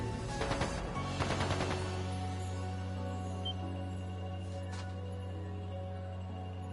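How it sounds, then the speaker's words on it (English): Gunfire in the video game The Legend of Heroes: Trails of Cold Steel II comes as two rapid bursts of shots close together, then gives way to a steady low hum with faint distant tones. "That didn't sound good. That sounded like gunfire."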